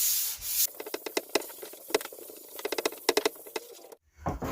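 Quick strokes of 240-grit sandpaper rubbing across sealed scaffolding-board wood, a series of short scratchy passes in an uneven rhythm, close by, ending in a brief pause.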